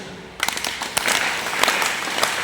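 An audience at a Sunday katha at the ISKCON temple in Juhu, Mumbai breaks into scattered clapping, a dense crackle of many hands with a few sharper claps standing out.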